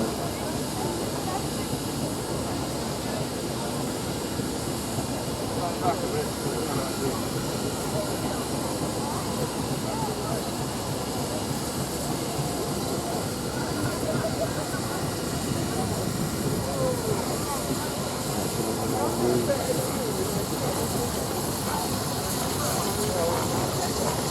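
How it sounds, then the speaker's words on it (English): A steam barrel engine rolls past at a steam rally, a continuous heavy mechanical rumble and hiss that stays close and fairly loud throughout, with outdoor crowd noise around it. "Finally, the barrel engine just going past me here."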